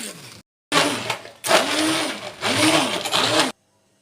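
Kitchen blender whirs in three loud bursts, separated by short pauses, as it grinds banana, dates and almonds with milk into a smooth shake, its pitch rising and dipping as the load shifts.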